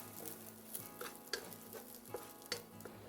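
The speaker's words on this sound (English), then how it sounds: "We'll add a teaspoon of oil, along with our garlic slices. We'll saute for about 30 seconds until lightly golden" Garlic slices sauté in a teaspoon of oil in a wok, giving a soft, quiet sizzle with a few light stirring clicks and scrapes at irregular moments.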